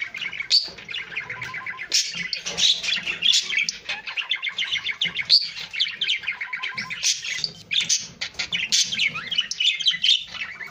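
A male jumbo budgerigar chatters and warbles insistently at a female, close by, a busy stream of chirps, squawks and rapid twittering phrases with brief pauses.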